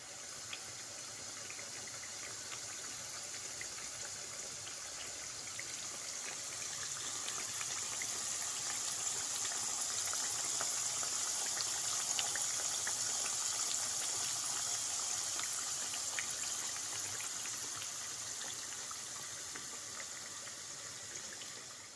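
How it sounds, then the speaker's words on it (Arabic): Potato and aubergine slices fry in hot oil for a moussaka, giving a steady, even sizzling hiss that swells slightly midway and keeps going without pause, with no talking. "سخنت بيان الزيت وراني نقلي في البطاطا ولي زوبرجين ديالي"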